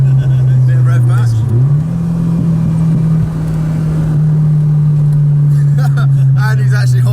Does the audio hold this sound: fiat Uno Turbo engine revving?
yes